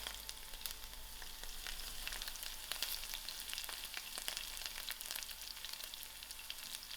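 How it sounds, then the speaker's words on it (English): Onions fry in a pot with cinnamon stick, thyme and curry leaf, a steady close sizzle with small crackles and pops running throughout. "I'll allow this to fry"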